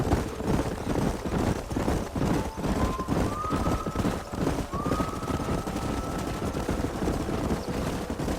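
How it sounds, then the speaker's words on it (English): Horses galloping through a canyon in the video game Red Dead Redemption, a dense continuous thunder of hooves, loud and close, with a rising whinny-like tone partway through and no talk. "Stay with the horses."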